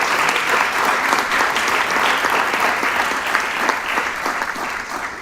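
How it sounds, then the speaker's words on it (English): Sustained applause from an audience at a school district board meeting, dense and even clapping throughout that eases slightly toward the end. "Let's give them a round of applause right back over here."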